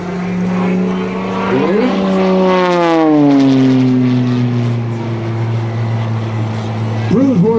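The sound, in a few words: aerobatic airplane engine, 330 hp Lycoming flat six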